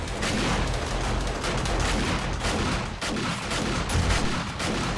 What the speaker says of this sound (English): let me start shooting.